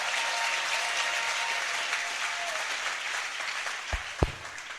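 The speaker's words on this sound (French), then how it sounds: "Clap for the Lord." A church audience at an evangelism class applauds steadily throughout, a dense, even wash of clapping from many hands, with a couple of sharper single claps standing out near the end.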